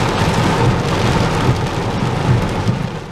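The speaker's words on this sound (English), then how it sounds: "It started pouring down like crazy" Heavy rain pours down in a thunderstorm, a loud, dense, continuous hiss of drops hitting surfaces, close and unbroken, with no voices.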